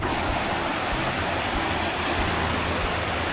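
A fairly calm river current flows steadily at a rural fishing spot, producing a constant, close rushing wash of water with no breaks.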